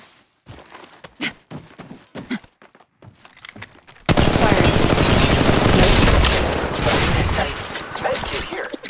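Sustained automatic gunfire in Apex Legends Mobile, a loud continuous burst of rapid shots that follows scattered earlier shots and clicks.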